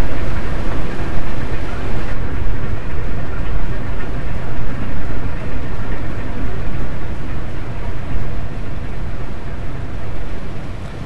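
Boat propellers detected on submarine sonar in the Iron Wolf VR game, a loud, dense, continuous churning rumble with a steady rhythmic throb that fades slightly toward the end.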